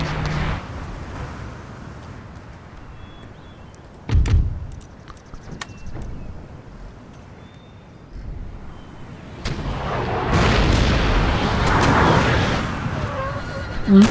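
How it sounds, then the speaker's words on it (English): Foot artillery firing on a battlefield in Empire: Total War, with a sudden heavy boom, scattered sharp shots, and a swelling rumble of distant fire and battle noise later on, partly under a talking voice. "So that is foot artillery"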